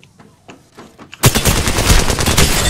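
Triple Take rifle fire in Apex Legends: a few sparse sharp cracks, then a loud dense burst of rapid shots and impacts continues to the end.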